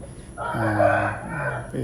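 A Bhimavaram breed rooster crows once, loud and close, a rising then falling call lasting about a second with a short tail at the end, alone without talk.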